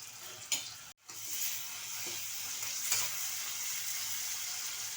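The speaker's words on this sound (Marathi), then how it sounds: "कांदा चांगला फ्राय झाले त्यात आपण एक टमाटर पण घालायचं आहे" Onion and tomato frying in a pan, a continuous close sizzle with a sharp utensil knock near the start and occasional stirring scrapes, no voices.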